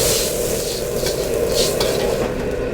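Water hits a hot wok during a Chinese stir-fry and hisses loudly while a utensil scrapes and stirs, making a continuous close sizzle with a few brighter scraping bursts.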